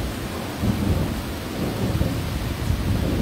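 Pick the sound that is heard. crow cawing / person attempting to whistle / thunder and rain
thunder and rain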